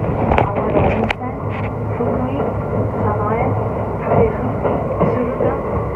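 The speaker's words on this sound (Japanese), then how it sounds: "電車サンダーバードの中で" Steady rumble and hum inside a moving Thunderbird limited express train carriage, with occasional clicks and faint voices in the background.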